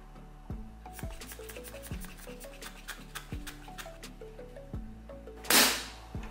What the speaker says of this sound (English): I'm pleasantly surprised by how powerful the blast of air feels.